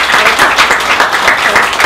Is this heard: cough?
no